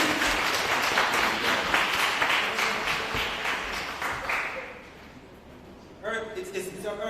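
A crowd at a credit union annual general meeting applauds with dense, sustained clapping that gradually fades out, followed by a person speaking.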